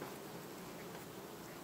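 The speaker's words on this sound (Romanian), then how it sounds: "arunc și o privire într-o familie de albine" A honey bee colony at the hive in August hums with a continuous, even buzz of many bees close by, a steady drone with no pauses and no talking.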